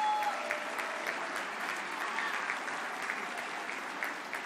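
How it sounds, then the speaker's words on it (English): Sustained audience applause at a student awards ceremony, a dense, even wash of many hands clapping at a steady moderate level throughout, heard from a slight distance in a hall. "Please give Matthew another round of applause"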